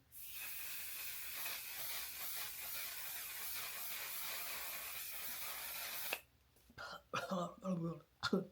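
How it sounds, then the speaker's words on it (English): A fine mist of makeup setting spray hisses onto a face in a long, continuous burst for about six seconds, then stops, followed by soft close-up rustling. "So I am going to go ahead and spray my face down with this one."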